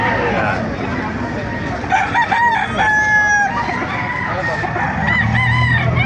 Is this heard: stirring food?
no